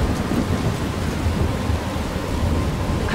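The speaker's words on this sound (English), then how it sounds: "I'm trapped in a storm." A thunderstorm with rain in the video game Life Is Strange, heavy steady rainfall hissing continuously under a deep, rolling rumble of thunder, loud and enveloping with no voices.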